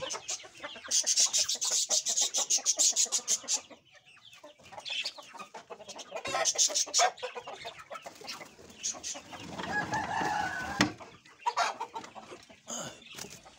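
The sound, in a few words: hens clucking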